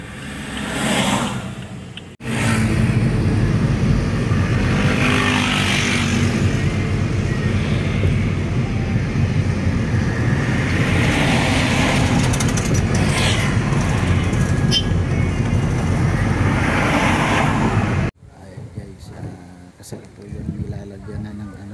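Car driving to a wedding as the couple's hired service vehicle, a steady loud road and engine rumble running continuously for about sixteen seconds before cutting off to quieter interior sounds.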